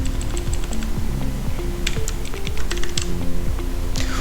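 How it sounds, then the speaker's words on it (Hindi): Close keystrokes on a computer keyboard clatter in quick, uneven runs with short pauses, crisp and alone. "मैं इसमें टाइप करता हूँ 2"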